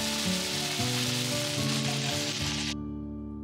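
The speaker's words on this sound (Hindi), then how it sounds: "तेल में मैंने गोभी को पहले फ्राई कर लिया है।" Cauliflower pieces and boiled potatoes sizzle steadily in hot oil, a dense close crackle with a faint background hum, cutting off abruptly near the end.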